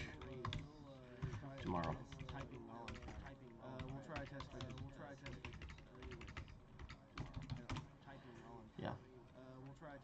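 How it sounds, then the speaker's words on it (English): Computer keyboard typing goes on in quick, uneven bursts close by, mixed in with a man chatting casually while he types. "I'm typing while I'm chatting"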